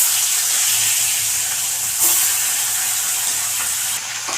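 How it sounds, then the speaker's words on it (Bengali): Parse fish frying in hot oil gives a loud, dense, continuous hiss and crackle that stays steady from start to finish. "বাকি মাছটা আমি এভাবেই ভেজে নেব।"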